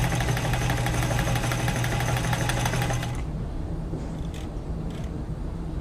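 A White 600 sewing machine stitches with a fast, steady mechanical whir and rapid clatter for a few seconds, then its tone drops to a softer, lower hum with faint ticks.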